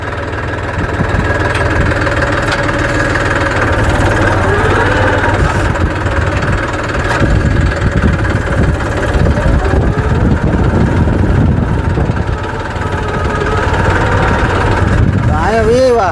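A tractor engine idles steadily close by, left running in auto mode, with a continuous mid-pitched rumble and vibration throughout while someone talks over it.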